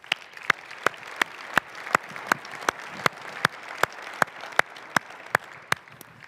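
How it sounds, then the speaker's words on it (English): An audience at a city's state of the city address claps in steady, evenly spaced beats, with sharp individual claps standing out from a softer, continuous patter. "That deserves applause."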